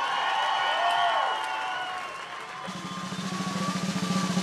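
Concert audience at a rock tribute show applauding and cheering, crowd noise under music that fades and then builds into rhythmic clapping toward the end.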